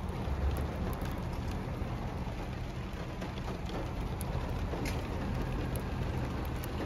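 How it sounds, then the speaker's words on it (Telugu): Heavy rain falling during a storm in Kuwait, a steady soft hiss of rain with faint traffic noise, fairly quiet and continuous with no voices. "వాన లోపలికి వచ్చేస్తుంది."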